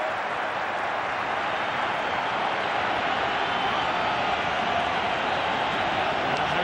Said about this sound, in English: this crowd in Sydney is on their feet,